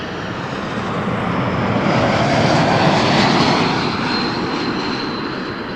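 An airplane takes off from Toronto Pearson Airport, its engine roar swelling to a loud, steady peak mid-clip and then easing slightly, with no voices over it.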